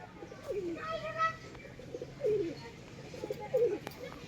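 Andhra line tippler pigeons coo in a few soft, gurgling phrases, repeating at roughly one-second intervals and sounding close but fairly quiet, with faint background murmur.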